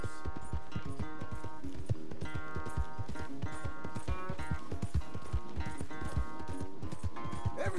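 Horse hooves clip-clopping in a steady run with brief whinnies, set against layered music in the Red Dead Redemption 2 video game; hoofbeats repeat rhythmically throughout.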